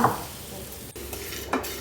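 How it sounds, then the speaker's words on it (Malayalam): Dried shrimp roasting dry in a pan, with a steady low crackle and a few stirring scrapes and clinks, close by and moderately quiet, with no talking. "ആദ്യം ഞാൻ കുറച്ച് ഉണക്കച്ചെമ്മീൻ എടുത്ത് കഴുകി വൃത്തിയാക്കിയതിന് ശേഷം ഒരു പാനിലിട്ട് നന്നായി ഒന്ന് വറുത്തെടുക്കുകയാണ്"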